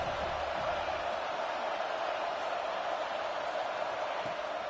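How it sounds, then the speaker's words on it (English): In a College Football video game, a stadium crowd roars on third down at Saban Field, a steady wall of noise with an even, unbroken hiss-like texture and no distinct voices or peaks. "The Tide crowd roaring noise down onto Saban Field on 3rd down."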